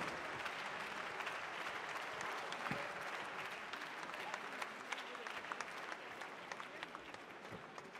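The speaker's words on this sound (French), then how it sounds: "on peut les applaudir" A conference audience applauds at a closing plenary session, a dense, continuous wash of clapping from a large hall, fairly distant and steady, with faint voices underneath.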